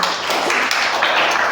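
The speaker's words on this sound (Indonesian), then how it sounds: "tepuk tangan buat Selda" A classroom of students claps for a classmate, a brief dense burst of close, loud clapping.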